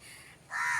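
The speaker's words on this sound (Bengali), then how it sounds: "আর একটা কাক দেখো কেমন ডাকছে শুধু" A single short, harsh caw from a crow, fairly close, after a brief moment of quiet background.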